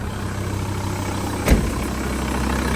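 Diesel engine of a VW Transporter T4 idling after start-up following injector replacement, a steady, even low rumble with one brief knock partway through.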